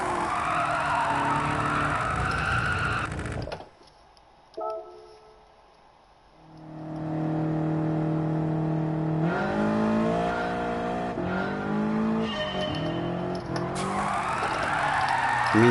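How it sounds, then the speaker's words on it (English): A car drifts in Gran Turismo 7 with loud, sustained tire skidding over a revving engine. The sound drops out briefly, then the squeal and engine return strongly and hold steady. "So I want to be starting my drift straight away."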